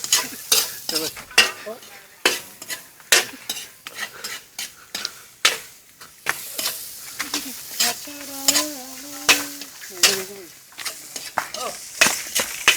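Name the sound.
sautéing ginger in a pan for lugaw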